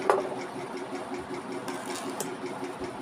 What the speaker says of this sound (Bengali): সেলাই করে নিলাম।